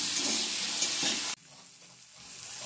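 Diced potatoes and chopped tomatoes frying together in a pan while being stirred, giving a steady close sizzle that cuts abruptly to a quieter, softer crackle partway through.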